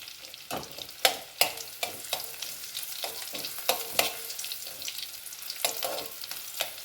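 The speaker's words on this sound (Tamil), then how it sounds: "அதை சேர்த்துட்டு நல்லா வதக்கிடுவோம்." Ingredients for sambar frying in a pan, a close crackling sizzle with irregular scraping stirs and spatula knocks against the pan throughout.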